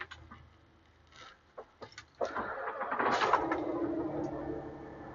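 A 2021 Peterbilt 389 truck with an 18-speed transmission cranks and fires up. A few faint clicks lead to a sudden catch, followed by a steady, building engine rumble that stays close and loud to the end, with no talking.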